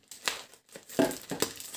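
Plastic packaging of an AliExpress parcel, sealed and wrapped in tape, crinkles in several short bursts as it is handled and opened up close, with no voices.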